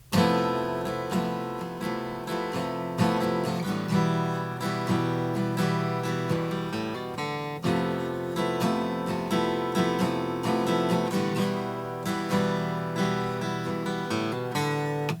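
Strummed guitar chords in a steady rhythm moving through a progression, full and continuous, with no talking.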